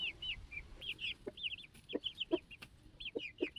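Free-roaming village chickens in a Nepali Himalayan village cluck in short repeated calls, several birds close by, with soft low background noise and no talk.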